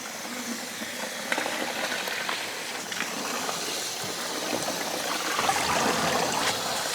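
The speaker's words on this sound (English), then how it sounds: "Just rinse it twice until it cools." Cooked rice noodles for beef pho are rinsed under running water, a steady trickling, splashing wash that stays loud and close the whole time, with no talking.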